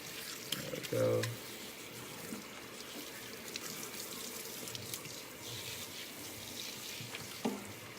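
Tap water splashes steadily while a dog is rinsed during a bath, with a louder gush near the one-second mark and a smaller burst near the end, all fairly faint and continuous.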